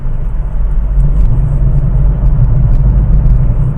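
A Honda Amaze S manual car accelerates with a steady, loud low engine rumble and whir heard from inside the cabin, building smoothly and evenly without breaks.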